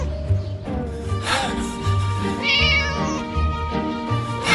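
A cat in the video game Scary Teacher meows repeatedly in drawn-out, whiny calls over a steady background of music and game sounds.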